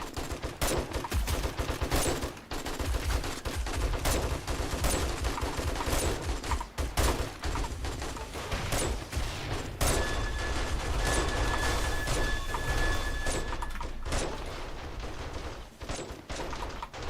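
Dense, continuous gunfire from automated turrets mowing down a zombie horde in the survival game 7 Days to Die, rapid overlapping shots blending with impacts and chaotic game noise throughout.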